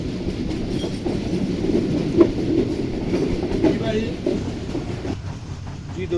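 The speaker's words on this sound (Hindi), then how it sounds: "8:11 पर ट्रेन हमारी फैसलाबाद की गली मोहल्लों से गुजर रही है" Karakoram Express train rolling through Faisalabad neighbourhoods on its winter Karachi-to-Lahore run, heard from on board as a steady low rumble with faint rail clatter and a few brief clicks throughout.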